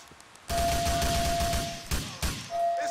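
Rapid, dense gunfire in GTA IV: The Ballad of Gay Tony, a sustained burst of loud shots with a steady tone running underneath and a couple of sharper blasts near the end.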